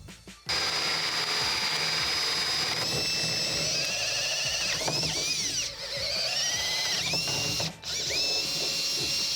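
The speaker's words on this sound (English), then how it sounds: "let's go ahead and drill the holes." A power drill bores holes into a tub deck for mounting a Delta deck-mount Roman tub valve rough, running loud and steady with a high whine that shifts pitch as the bit bites, briefly dipping between passes.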